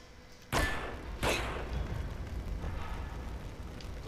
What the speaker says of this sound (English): guys, don't look at explosions.